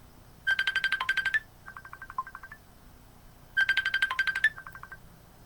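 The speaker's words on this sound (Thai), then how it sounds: "มีโทรศัพท์เข้ามารับไม่ได้ต้องขออภัยตอนนี้กำลังจัดรายการอยู่" A mobile phone ringtone sounds for an incoming call during a live broadcast program, two bright, clear repeated melodic beeping phrases separated by a short pause.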